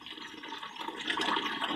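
Water from an extension pipe on a UK allotment running into a gutter to fill stored water, a continuous rushing splash that swells slightly, close and moderately loud.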